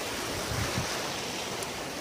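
Ocean waves wash onto the beach at Tawog, Argao, Cebu, a steady broadband surf roar with a slight swell in the first second, no voices.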